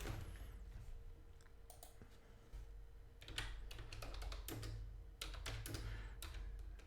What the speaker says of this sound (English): I'm gonna do some loud typing